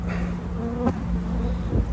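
Honey bees buzz steadily around an open hive during a beekeeper's inspection of small nucleus hives, a close, continuous droning hum with individual insects passing near.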